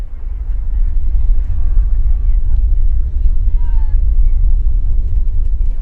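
Ocean liner engines give off a deep, continuous low rumble that holds steady and fairly loud throughout, with only slight swells in level.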